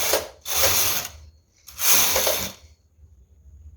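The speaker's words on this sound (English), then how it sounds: "push the empty needle back to work and knit 2 rows." A knitting machine carriage knitting two rows makes two long rasping, ratcheting sweeps, each about a second, separated by a short pause, close and clear with no talking.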